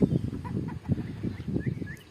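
Chickens and roosters cluck and gobble close by, with a few higher squawks and calls mixed in, a busy barnyard chatter with no talking.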